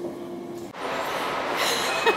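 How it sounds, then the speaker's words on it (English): Rumbling train noise with a brief tonal whine, then a broader rushing roar of the carriages and faint squealing near the end. "We made the train."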